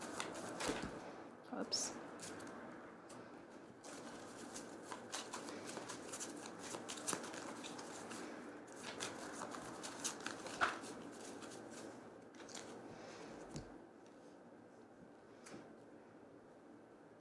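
Oracle cards being shuffled and pulled by hand, a run of soft riffling flicks and sliding taps up close, with a brief spoken word partway through.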